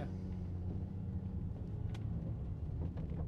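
A 2024 Land Rover Defender pulling away gently on an icy road, heard from inside as a low, steady engine and road rumble with faint scattered clicks.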